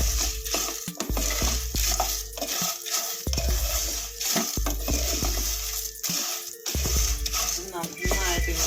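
Ada and sago fry in ghee in a pan for Kerala palada pradhaman, with a spoon repeatedly stirring and scraping against the metal under a soft sizzle while a voice talks over it.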